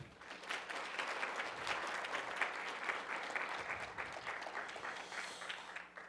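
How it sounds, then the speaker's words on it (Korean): Sustained audience applause at an award ceremony for a mock IMO general assembly, honouring judges and nine competing teams; steady, moderately distant clapping from a large seated crowd, continuous for the full stretch without speech. "아홉 개 참가팀에게 큰 박수 부탁드리겠습니다"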